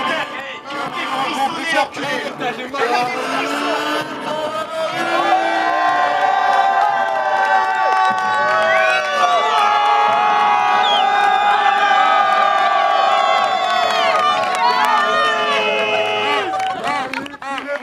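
Wrestling crowd at a European title event cheering and whooping for the champion, a loud continuous roar with shrill individual shouts rising above it.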